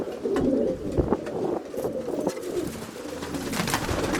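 Pigeons cooing back and forth on a windy day: repeated low soft coos in a loose rhythm, fairly near, over steady wind noise with no talk.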